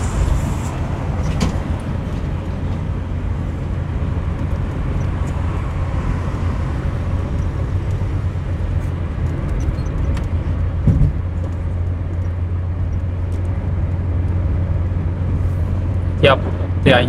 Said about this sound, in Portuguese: Já vai se juntando mais carro aí na frente.